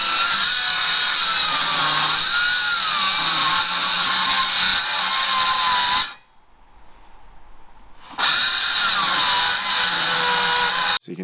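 A circular saw guided by a homemade jig cuts wood while fitting out a van, whining loud and steady, stopping for about two seconds, then starting up again for a second pass.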